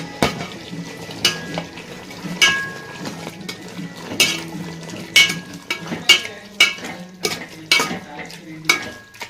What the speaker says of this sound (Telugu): టమాటాలు వేసేస్తున్నా